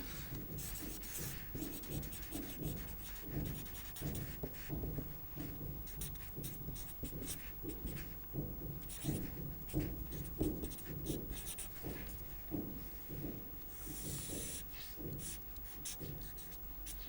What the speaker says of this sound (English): The Gaussian window, again let me sketch it.